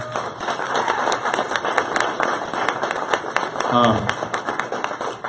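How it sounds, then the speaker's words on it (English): An audience at a presentation event held at Google gives a round of applause: scattered, fairly close hand claps that come in uneven bursts, with some voices and a brief shout mixed in. "Can we all just give a round of applause for Google?"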